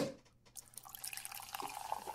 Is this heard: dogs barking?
no